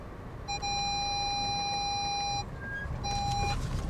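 A car's warning beep while manoeuvring on a countryside road, a long steady electronic tone followed by a shorter repeat, sounding over engine and road rumble inside the car.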